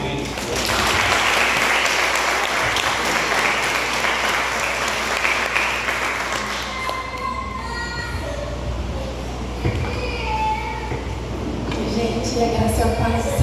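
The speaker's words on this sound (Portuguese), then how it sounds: "Aplauda o Senhor." A congregation applauds during a Portuguese-language church service. Loud, dense clapping fills the first half, then thins and fades as sustained tones and voices rise, with a few scattered claps lingering near the end.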